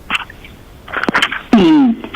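A single sharp human sneeze bursts out during a formal online committee briefing, preceded by brief scattered noises and followed by a short pause.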